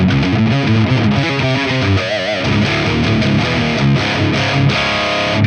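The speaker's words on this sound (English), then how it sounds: "The mid knob for this amp model changes the character of the distortion." An electric guitar plays through a Line 6 Spider Valve HD100 amp with heavy distortion, dense crunchy chords and riffs rolling on loud and continuous with no talking.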